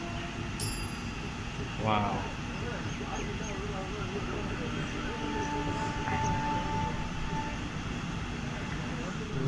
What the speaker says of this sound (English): See, the train took off.